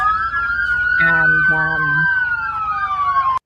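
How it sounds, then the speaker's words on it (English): Ambulance siren wailing steadily at a fatal road accident scene on Shamrock Road, loud and close, with a brief voice and a short horn-like blast partway through. "obviously the ambulance services on location"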